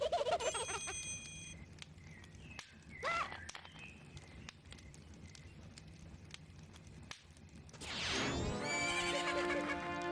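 A horse neighs in The Legend of Zelda: Majora's Mask, a loud rising-and-falling whinny near the end, preceded by quieter game sounds, chimes and a brief rustle, with no talking.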